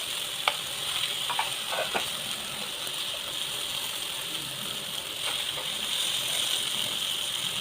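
Seela fish pieces frying over a low flame in a pan, giving a steady, fairly loud sizzle with a few sharp clicks and scrapes of turning near the start and again later, no voices.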